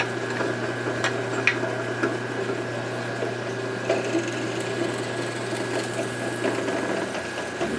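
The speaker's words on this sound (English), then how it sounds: "busting out the drill press. Drill those holes a little bit larger than the screw" A drill press runs in a workshop, boring holes in wood: a steady mechanical whine with faint rattling and ticking that holds evenly throughout, close and fairly loud, with no voices.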